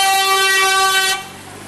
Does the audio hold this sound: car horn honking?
yes